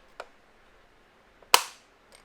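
A plastic hatch on a Star Wars Mission Fleet Razor Crest toy snaps shut with one sharp, close click, preceded by a faint lighter tap and followed by another soft tick.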